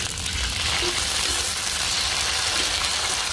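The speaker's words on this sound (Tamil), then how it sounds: "இஞ்சி பூண்டு பேஸ்ட்டு போடுறோம்." Ginger garlic paste hits crisp fried onions and green chillies in hot oil for a Hyderabad-style mutton gravy, giving a steady, loud, close sizzle that stays even throughout with no voices.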